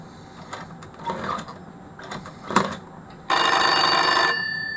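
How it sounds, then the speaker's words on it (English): An old rotary telephone with a sticky, gummed-up dial clicks and rattles as the dial is helped back to rest, then a second phone's bell bursts into steady, loud continuous ringing that holds to the end. "it rings the other phone with a bit of with a bit of help to return the dial back to its normal position"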